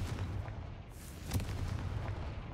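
Confringo explosive spell from the Hogwarts Legacy video game going off: a sharp blast burst near the middle of a rumbling, booming game soundscape, with a steady low-frequency drone beneath.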